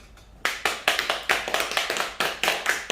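Clapping for a population lecturer at a talk in Ulsan, made of distinct, sharp hand claps in a brisk, fairly steady rhythm. It sounds close and moderately loud, with no talking.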